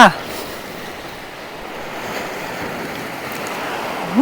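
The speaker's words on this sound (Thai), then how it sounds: "บรรยากาศ สวยงามมากเลยค่ะ วันนี้อากาศดี แต่ลมจะแรงหน่อยนะคะ" Strong wind blowing across a microphone by the sea, a steady broadband rush with surf-like texture holding evenly throughout, no other clear sounds.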